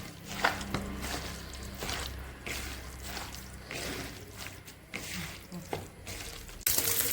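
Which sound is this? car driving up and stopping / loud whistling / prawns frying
prawns frying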